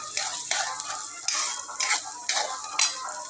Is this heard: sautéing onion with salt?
yes